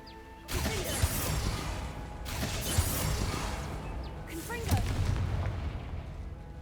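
Confringo fire spell blasts in Hogwarts Legacy, several booming bursts with crackling fiery tails spaced a couple of seconds apart over a game backdrop, loud and close.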